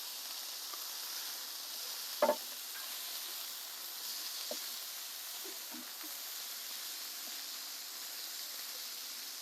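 Indian lamb rissoles cooking on a hot plate give a soft, steady sizzle and hiss throughout, with a couple of faint clicks and taps over the quiet frying.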